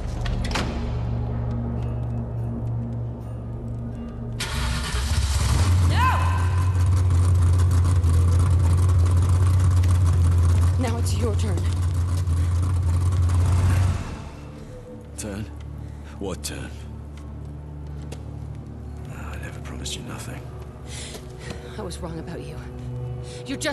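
A V8 car engine in the Mad Max video game fires up and revs hard. It holds a loud, heavy drone for several seconds, then cuts off abruptly, and a voice speaks over the quieter game sounds that follow.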